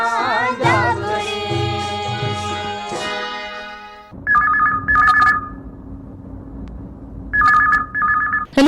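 A telephone rings on a Chhattisgarhi call-in song radio show, two pairs of trilling electronic rings that follow a few seconds of music and stand out clearly against a quiet background hum.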